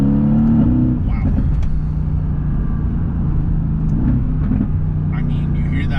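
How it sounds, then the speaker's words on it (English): McLaren Artura exhaust popping and crackling under acceleration: a steady engine drone with a few sharp backfire bursts, recorded from inside the car with a voice talking over it. "you hear that, those backfires and pops?"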